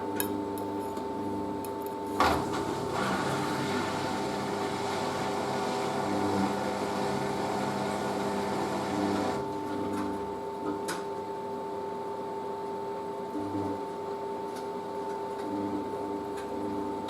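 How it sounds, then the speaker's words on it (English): A Merloni Electra WD1100 washer dryer's drying fan gives a steady mechanical hum with a whirring fan and constant tonal drone, plus occasional faint clicks and a brief knock, running continuously throughout. "I love the sound of the dryer fan on this though."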